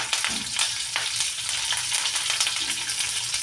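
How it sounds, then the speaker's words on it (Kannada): Onions sizzle and crackle in hot oil in a pan while frying for a peanut egg curry, a steady close hiss with occasional stirring scrapes. "ಇವಾಗ ನಾವು ಸ್ವಲ್ಪ ಈ ಥರ ಹುರ್ಕೋಬೇಕು ಸ್ವಲ್ಪ ಬ್ರೌನ್ ಕಲರ್ ಆಗೋವರೆಗೂ ನಾವು ಇದನ್ನು ಹುರಿಯೋಣ"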